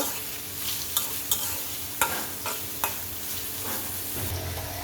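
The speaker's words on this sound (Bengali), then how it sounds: "তেলেই এখন ওই তেলেই পেঁয়াজ দিয়ে দিব পেঁয়াজটা একটু ভেজে নেব" Onions fry in oil for a Bengali boal fish curry, a dense close sizzle punctuated by several sharp spatula clacks and scrapes as the pan is stirred. No speech is heard.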